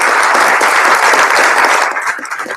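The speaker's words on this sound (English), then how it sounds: "would you join me in a round of applause to our participants today" An audience at a prosecutors' panel plenary applauds the participants with dense, loud, continuous clapping that fills the room and begins to thin out toward the end.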